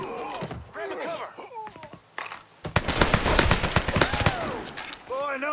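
Rapid bursts of gunfire in the video game Mafia III, dense crackling shots mixed with shouting voices, rising to a heavy barrage midway.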